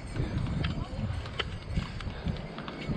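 Horse hooves clip-clop steadily on a Kedarnath mountain trek as a rider carries a small child uphill, a moderate rhythmic clatter mixed with outdoor bustle and voices.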